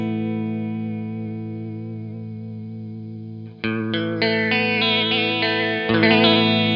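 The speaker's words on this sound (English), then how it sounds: "as you turn to the right, you're getting more of an old tape sound. It's like gets more crinkly." Sustained warbling chords through a Source Audio Artifact Lo-Fi Elements pedal in tape mode carry a wobbly, worn lo-fi tape character; partway through new notes enter and the tone grows brighter and more crinkly.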